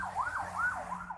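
An ambulance siren passing in the street, wailing in a steady rising and falling cycle, fairly loud and alone with a low traffic rumble beneath.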